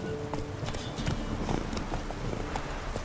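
Roach, the horse in The Witcher 3, galloping in a fast, steady clip-clop of hooves that runs without a break and sits close and fairly loud.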